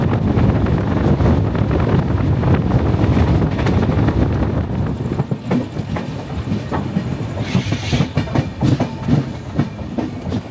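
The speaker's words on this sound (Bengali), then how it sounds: "নির্দিষ্ট সময়ের থেকে অলমোস্ট 15 মিনিট লেটে ট্রেন এসে পৌঁছালো তার ফার্স্ট হল্ট খড়গপুর জাংশনে" The Sealdah–Puri Duronto Express running on the rails, a loud continuous rumble with rhythmic clickety-clack of wheels and gusts of wind noise, heard from aboard the train.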